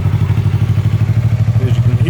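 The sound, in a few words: Yamaha YZF R3 motorcycle starting, exhaust without baffle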